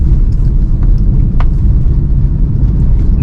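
Car driving in third gear along a busy road, a steady loud low engine and road rumble filling the whole stretch with a few faint brief higher noises over it.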